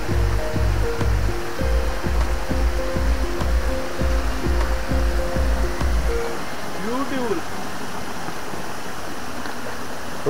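Water flows in a jungle stream beside a waterfall trail in Konkan as a steady wash, first partly covered by a loud rhythmic mechanical thumping, then continuing alone as the background.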